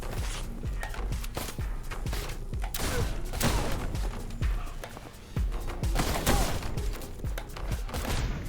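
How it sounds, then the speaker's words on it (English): A very heavy shotgun with flame fires repeatedly in the action game Suit For Hire, its loud booming blasts coming in quick succession amid other combat noise. "This is the gun from the movie, essentially. Like a very heavy shotgun with flame and all."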